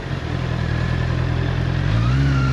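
A Honda CBR 650 R motorcycle in first gear at walking pace, its engine a steady close low rumble that rises slightly in pitch toward the end, with no talking.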